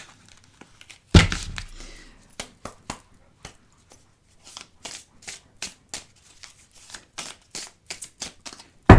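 Tarot cards being cut and handled: a sharp rustle, then a run of crisp, separate card snaps and slaps at irregular intervals, close and fairly loud, with no voice.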